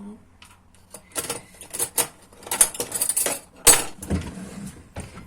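A metal spoon scrapes and clinks against a dish of dovga, a yogurt soup, in short, irregular bursts, close by, with faint voices now and then.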